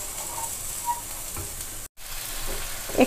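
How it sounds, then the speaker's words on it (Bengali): Chicken paturi wrapped in bottle gourd leaves fries in oil, a soft, steady sizzle with faint scraping, interrupted by a brief silent gap before the crackle resumes, close and without talk. "পাতার নিচের পোর্শনটাতে তেলটা যাচ্ছে কি না, ভালো করে সেকে নিতে হবে"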